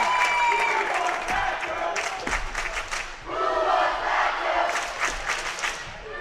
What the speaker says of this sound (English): Panther fans trying to cheer Park Rapids on to tie this one up